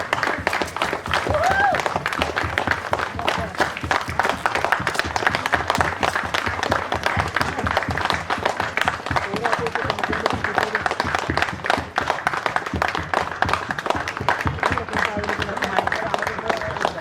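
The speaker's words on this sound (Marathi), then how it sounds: "जोवर या स्मरणिकेचं प्रकाशन होत नाही तोवर टाळ्या थांबू नये" Audience applause at a community association's 75th-anniversary souvenir booklet release, steady continuous clapping from a crowd filling the whole stretch, with voices mixed in.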